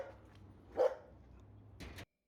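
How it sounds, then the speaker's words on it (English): Neighbours' dogs bark faintly in an Yerevan neighbourhood, one distant bark rising above a low background hum, then a muffled thump before the sound cuts off. "the neighbours' dogs weren't particularly happy to see me."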